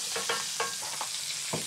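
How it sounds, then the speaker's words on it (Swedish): Jerusalem artichokes fry in duck fat in a pan, giving a brief crackling sizzle broken by a few sharp stirring scrapes, with no voices. "Ska vi steka jordärtskockorna i den?"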